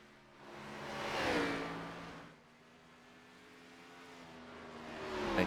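Race car in a Bristol Motor Speedway racing game drifting into the pit lane, its engine a faint droning whine that swells as it passes close, fades, then rises again.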